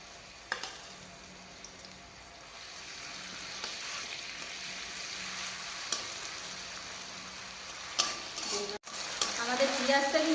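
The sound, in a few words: frying spices in a pan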